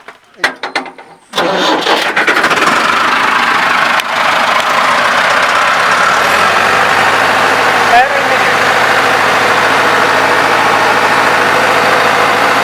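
A Massey Ferguson 385 tractor cranks and fires, then holds a loud, close, continuous engine roar at about 1700 rpm for the rest of the stretch.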